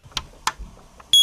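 A carbon monoxide alarm gives a sharp, loud, steady electronic beep near the end, after a few soft knocks and handling sounds.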